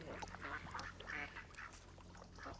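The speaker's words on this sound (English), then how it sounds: "At feeding time, huge stocks of varying species of carp, including koi, fight it out with the ducks." Ducks quack at a garden pond while large carp and koi compete with them at feeding time, several overlapping calls close by over steady splashy background noise.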